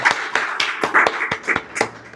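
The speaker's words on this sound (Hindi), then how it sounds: "एक बार दिव्यांश के लिए तालियां हो जाएं।" A small studio audience on a quiz show claps, a sparse handful of distinct close hand claps in an uneven rhythm.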